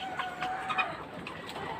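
Chicken, a laying hen close to laying eggs, gives soft, faint clucks and chatters in short bursts against a steady background hum, with no other voices.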